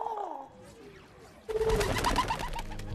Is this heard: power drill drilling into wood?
no